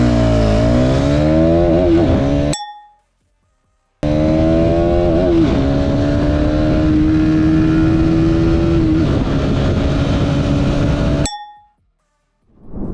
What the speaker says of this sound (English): to prove what it actually does, we're going to put a small clip of the testing that we did